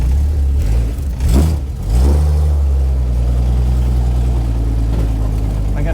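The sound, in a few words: 1980 Jeep Cherokee Chief engine running, creaking and clanging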